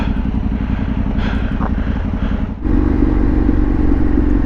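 A trail motorcycle on a TRF group ride runs with a steady, loud engine drone and rumbling chatter, dipping briefly before the engine note rises again as the bike keeps moving.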